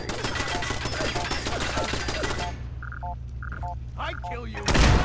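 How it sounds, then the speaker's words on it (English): A machine gun turret fires in Fallout 4 with dense rapid automatic gunfire over a game hum, then breaks off into scattered electronic beeps and a final loud burst. "Let's shoot the machine gun turret."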